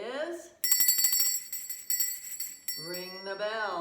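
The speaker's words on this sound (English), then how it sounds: "ring the bell" A handbell is rung to open a Sunday school class, a bright, rapid metallic ringing lasting about two seconds, with voices talking just before and after it.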